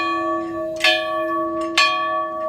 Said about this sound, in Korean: 교회의 종소리, 지금도 여전히 선명하게 들리는 듯 합니다